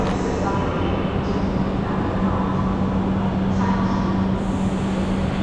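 Steady low rumble and hum of an NCRTC rapid rail train leaving Ghaziabad station, a continuous rolling drone along the track with no talking.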